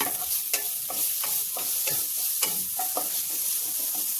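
Onion and tomato frying in a pan for an aloo gobi curry, a soft continuous sizzle broken by rhythmic scrapes of a spoon stirring, close up and without voices.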